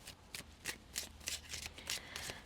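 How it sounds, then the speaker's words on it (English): A deck of tarot cards is shuffled in quick, rhythmic riffles, about eight crisp bursts in a row, close and fairly soft with no talk. "I'm shuffling it back in for the record"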